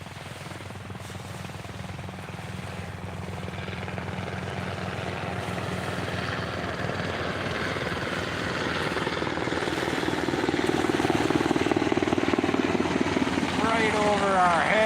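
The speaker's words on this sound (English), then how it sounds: "Here's a helicopter." A military helicopter's rotor thumps steadily, growing louder as it approaches and passes overhead, with faint voices underneath.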